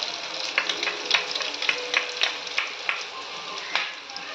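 Coriander, turmeric and chilli powders sautéing in oil for a fenugreek gravy, a bright steady sizzle punctuated by rhythmic scraping stirs of a spoon against the pan, close and clear.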